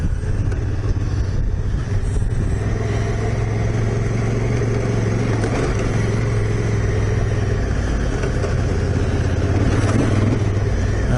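An adventure motorcycle, a Yamaha T7 or Honda Africa Twin, rides along in second gear with a steady, close mid-range engine drone and rumble, a continuous, fairly loud hum with slight rises in pitch and no talk.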